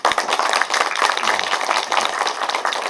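Steady clapping from an audience at a public meeting with the Hwaseong city mayor in Jinan-dong, a dense, loud burst of applause that carries through the whole moment without talk.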